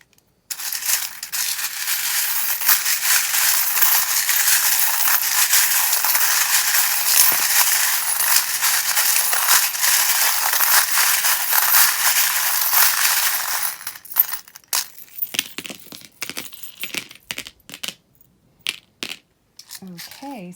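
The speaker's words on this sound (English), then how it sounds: "If you don't like the sound of the charms, just turn down the volume a little bit while I shuffle them." Small metal tarot charms shuffle together in a steady, dense jingling rattle for about fourteen seconds, then scattered individual clinks and taps follow.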